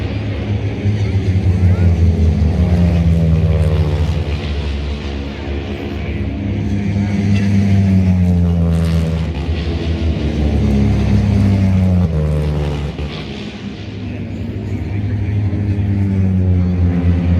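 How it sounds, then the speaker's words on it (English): Loud, droning engines roar continuously, with pitch sweeps as several racing motorbikes pass close by at the Northwest 200 near Portrush, over a busy outdoor crowd backdrop. "check out the type of motorbikes. They sound like bigger engines"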